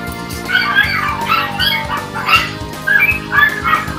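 Dogs in the Dota 2 video game bark and yelp in quick, overlapping bursts, loud and close, over a busy backdrop of game effects and music.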